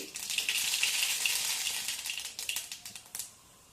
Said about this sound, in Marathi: तेल तापल्यानंतर आपल्याला त्यामध्ये शेंगदाणे तळून घ्यायचे आहेत